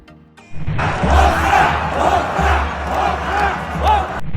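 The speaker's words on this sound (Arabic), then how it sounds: "وصافرات استهجان المنتخب المصري أثناء النشيد الوطني" Moroccan football fans in a stadium loudly whistle and jeer during the Egyptian national anthem at a third-place match against Nigeria, a dense roaring crowd that swells abruptly after a brief quiet start and holds.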